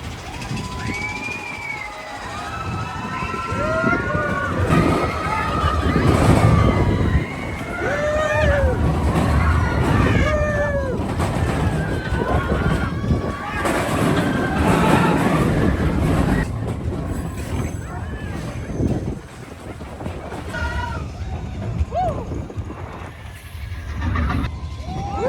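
Big Thunder Mountain Railroad, a mine-train roller coaster at Disney World, rattles and rumbles loudly along its track with squealing wheels and shifting roars, while riders scream and talk throughout.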